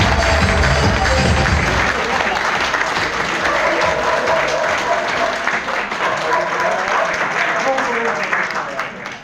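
An audience at a motivational seminar on a Delhi stage applauds in a loud, sustained burst of many hands clapping that gradually thins out, with voices mixed in.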